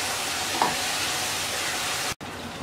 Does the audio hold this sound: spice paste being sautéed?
yes